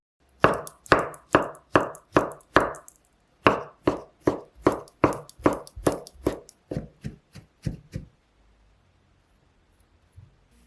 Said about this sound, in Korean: 브로콜리 먼저 꺼내 잘게 썰어주세요.